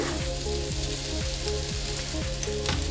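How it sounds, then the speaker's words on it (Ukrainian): Sliced zucchini and tomatoes frying in a pan over medium heat in Ukraine, a steady loud sizzle with crackling spits throughout, close up and without talk. "на середньому вогні обсмажую приблизно 3 хвилини, не більше"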